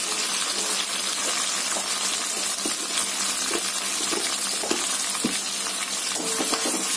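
Tomatoes with salt and black pepper cook in a pan with a steady, close, bright sizzle and frying hiss, broken by occasional soft clicks of stirring.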